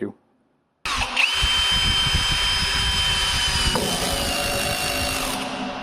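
A 20 V cordless impact drill-driver starts abruptly after a brief silence and runs steadily, driving a 16 mm self-tapping screw with a loud, close whine and rattling drive for about five seconds.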